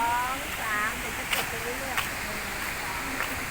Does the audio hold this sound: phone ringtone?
no